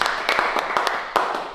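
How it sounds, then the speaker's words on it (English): A round of applause for Andy from DRT, with a dense, steady patter of hands clapping close by over the short stretch. "Big round of applause for Andy from DRT."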